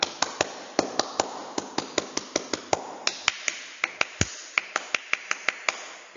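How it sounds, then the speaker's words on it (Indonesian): Pramuka scout troop doing their rhythmic clap twice over, sharp in-unison hand claps in a patterned sequence with short pauses, crisp and close, with no talk. "2 kali tepuk pramuka"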